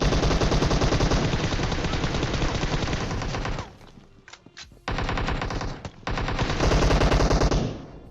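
Sustained automatic gunfire from PUBG Mobile rattles loud and close in rapid bursts, breaks for a quieter moment with a few isolated shots, then resumes in dense continuous volleys.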